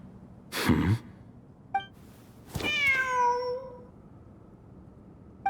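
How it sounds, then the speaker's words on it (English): A cat in the video game Genshin Impact gives a soft breathy sound, then a clear, falling meow, heard alone over a quiet background. "Wait, there it is! The cat!"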